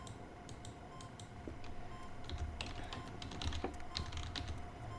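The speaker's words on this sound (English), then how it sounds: "you could type it out in the computer" Typing on a computer keyboard in a room, soft scattered key clicks over a steady low background hum, irregular and fairly quiet, with no voices.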